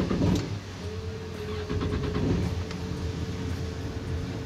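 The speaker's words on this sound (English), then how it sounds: "When we fire up the engines" Twin Yamaha outboard boat engines start up, a short cranking burst followed by a steady mid-pitched running drone with a faint whine, continuous and fairly close.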